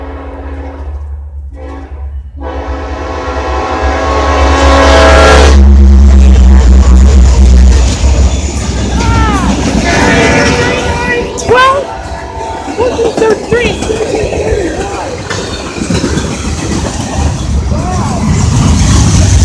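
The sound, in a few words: train passing by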